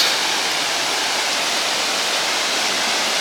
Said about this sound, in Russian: Водичка тут бежит.